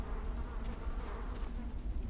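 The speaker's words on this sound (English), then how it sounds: "Those damn flies." Flies buzz continuously in the Neverwinter merchant guild hall, a thick, even insect drone heard close with no voices.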